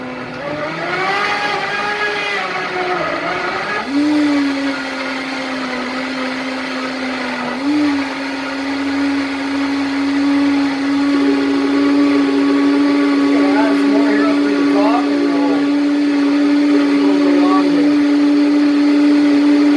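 A Vitamix blender whirs loudly and steadily, close by, while blending an alkaline smoothie with cucumber. The motor pitch shifts early on, then settles into a constant high-speed drone, and a voice can be heard faintly at moments.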